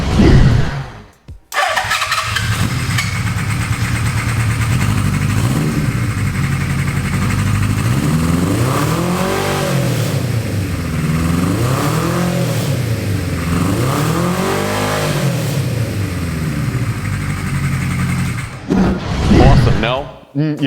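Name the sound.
1970s Honda cafe racer motorcycle engine with 4-into-1 exhaust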